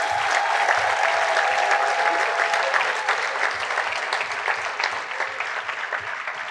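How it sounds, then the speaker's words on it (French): An audience at a church gathering applauds its leaders and organisers, a sustained and fairly loud patter of many hands that eases slightly toward the end, with faint cheers and a brief held vocal tone early on. "J'aimerais vous demander juste si on peut applaudir vos accompagnants"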